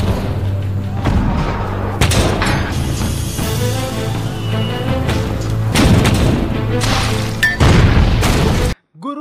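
Cannon fire booms out in a string of heavy, loud blasts with rumbling tails, repeated several times over a dense background of crashing impacts.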